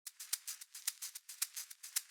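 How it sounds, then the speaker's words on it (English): A shaker loop rattles in a quick steady pattern of soft, crisp bursts with a regular accent, close and alone. "Then there's a shaker loop,"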